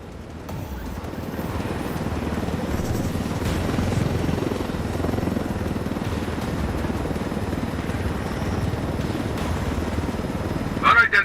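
A helicopter flies in Ghost Recon Wildlands, its rotor and engine roar steady and close throughout, with a brief clatter near the end.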